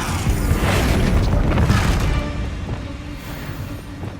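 A Bombarda spell explosion from the video game Hogwarts Legacy: a loud, dense blast lasting about two seconds, then a rumbling decay that fades gradually without any talk.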